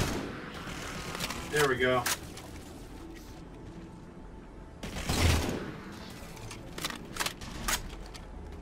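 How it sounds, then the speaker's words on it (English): Battle rifle fire in the Halo 4 game: a few short bursts spread across the moment, moderately loud, with someone talking briefly in between. "Ooh, a battle rifle. That'll do."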